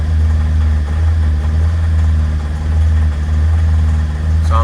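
An old car's engine runs roughly at idle, a loud close low-pitched drone with uneven throbbing pulses throughout.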